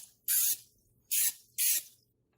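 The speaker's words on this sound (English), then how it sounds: "we have Pam, but any kind of spray vegetable oil" Pam vegetable oil spray misted over raw breadcrumb-coated gluten-free chicken tenders in three short, close hissing bursts separated by brief pauses, with no talking.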